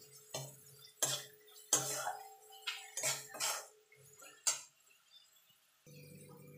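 Turmeric and Kashmiri chili powder being mixed with spices in a pan for an egg chop filling: intermittent spoon scrapes and sharp metallic clinks on the pan, close and fairly loud, separated by short quiet gaps.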